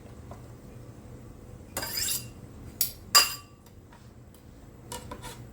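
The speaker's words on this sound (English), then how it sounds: "Just dulling my knife on my cutting board" A knife scrapes across a cutting board while chopping onion, several short scraping sweeps and clicks close by in an otherwise quiet room.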